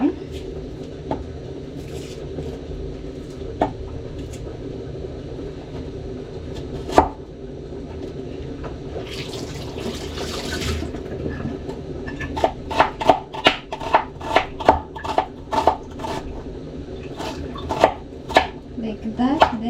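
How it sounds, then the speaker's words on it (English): An onion is sliced with a knife while cooking a Kenyan lunch, first quiet kitchen sounds and a voice, then a quick series of sharp, regular chopping taps against a board building up toward the end. "Then I will slice the onion."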